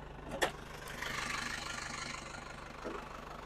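A 1998 Isuzu Panther Royal engine idles with a low, steady hum and faint knocking, heard close under the open hood, broken by a couple of brief louder knocks or clicks.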